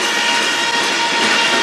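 A CN freight train passing on the Strathroy Subdivision, a steady close broadband roar of rolling wagons and wheels holding at constant loudness without a break.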